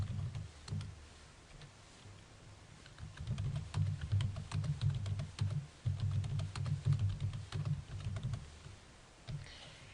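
Numbers for an income statement are typed on a computer keyboard in a steady run of close, quiet key clicks. The clicks come in short bursts with brief pauses and no talking.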